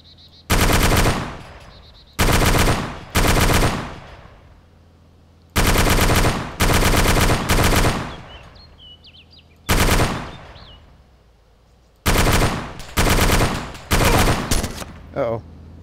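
A DShK heavy machine gun in a video game fires loud, close bursts of about one second each, repeated with short pauses between them, while a faint voice is occasionally heard.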